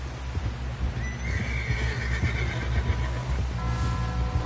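A horse whinnies in Red Dead Redemption 2, a clear drawn-out neigh over steady hoof clip-clop and a low rumbling game backdrop, with a second fainter whinny near the end.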